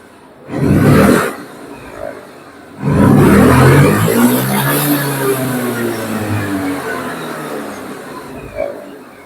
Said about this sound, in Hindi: प्रॉपर रेविंग हो रही है जो।